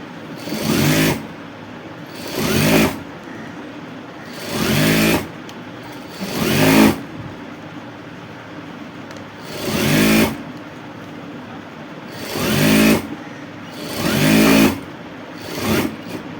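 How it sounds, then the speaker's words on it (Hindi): A sewing machine stitches elastic onto a pant in eight short, loud, whirring bursts of about a second each, separated by brief quiet pauses, close by and without talk. "फिर इसके बीचों बीच एक सिलाई लगाएंगे।"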